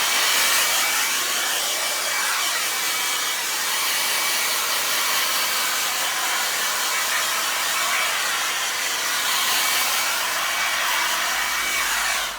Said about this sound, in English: we're just going to give that a dry with a hairdryer